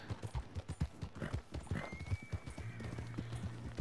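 Hooves clip-clop in a rapid galloping rhythm in Red Dead Redemption 2, close and distinct, followed by a rising horse whinny and a low sustained tone as the pounding continues.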